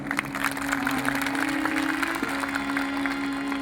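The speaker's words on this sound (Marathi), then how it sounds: "ज्याला ज्याला हात आहेत त्याने कोणी हात वर करून जरा टाळी वाजवा आपल्यासाठी" A crowd at a cultural festival of folk music claps together in a brief, steady burst of applause, moderately loud and continuous with no talk over it.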